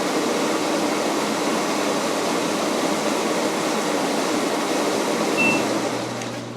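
LG top load washer, model WT4870 or WT5070 family, spinning at about 220 RPM in service test mode: a steady, even whooshing hum that holds level before tapering slightly at the end.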